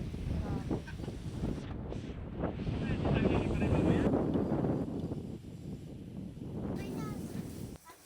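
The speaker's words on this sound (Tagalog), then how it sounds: "Tsaka medyo windy naman siya." Gusty wind buffets the microphone at a campsite on a farm in Sariaya, Quezon, a loud, rumbling roar that swells and eases, with people talking underneath.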